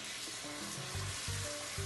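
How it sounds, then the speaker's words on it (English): Beef chunks searing in a hot pan for a Peruvian cilantro stew, a steady close sizzle and crackle of frying meat with faint stirring, no voices. "So first step, we are going to sear our beef."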